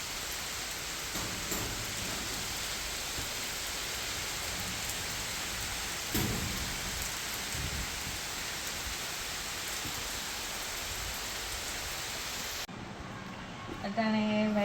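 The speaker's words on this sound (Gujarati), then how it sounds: "ચોમાસાનો પહેલો વરસાદ આજ મે આવ્યો આવ્યો" The first monsoon rain of the season pours down in a dense, steady hiss, with a dull thump of thunder partway through and voices talking near the end.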